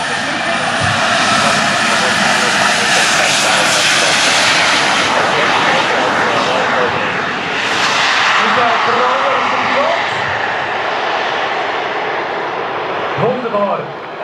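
A large 70 kg radio-controlled model Airbus A380 in Singapore Airlines livery flies past with its engines running, a steady loud roar sustained throughout, while people talk nearby.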